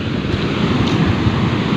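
Strong river current and waves churn mid-river during a typhoon, a loud, steady rushing wash with low rumbling surges and wind noise on the microphone, continuous with no talk.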